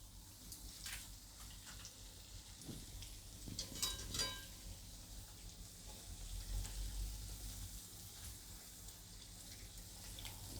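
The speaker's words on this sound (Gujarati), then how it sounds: "ધીમા ગેસે જ આપણે આને તરવાની છે." Suvali, a Gujarati fried snack, fry in hot oil over a low flame, giving a faint, steady soft sizzle with a few light clinks and crackles scattered throughout.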